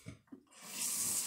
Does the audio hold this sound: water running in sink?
yes